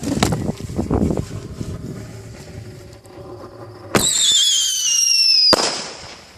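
Fireworks set off outdoors on a street: several sharp pops and crackles, then a loud whistling, shrieking rocket that ends abruptly with another burst, heard close by in open air.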